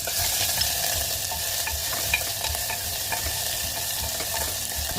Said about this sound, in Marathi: आता आपण तिला फोडणी देऊया